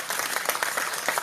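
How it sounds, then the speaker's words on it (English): Brief canned round of applause, a dense patter of many hands clapping at steady moderate loudness for about a second, with no voices over it. "he just gave you a sound effect for a round of applause"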